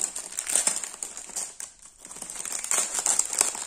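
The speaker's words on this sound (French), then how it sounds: "pour les bruits occasionnés par les papiers" Tissue and wrapping paper from an unboxing of hair accessories and stationery crinkles and rustles close by in repeated bursts, with a brief quieter pause midway before the crumpling picks up again.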